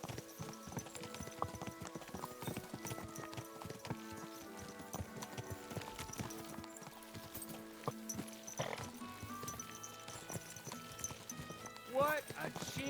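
Horse hooves clip-clopping in Kingdom Come Deliverance 2, a steady trotting rhythm running throughout over game music and ambience, with an occasional whinny and someone talking over it.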